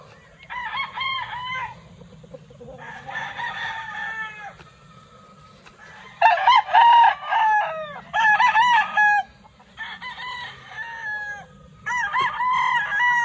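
Gilmore gamefowl roosters on a farm crow repeatedly in loud, overlapping bursts, with a low steady hum of farm background beneath the calls.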